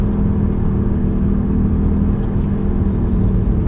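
Inside a moving 1995 BMW E36 318i, a steady whine from worn rear wheel bearings rides over constant road rumble and engine drone while cruising at speed, with no voices.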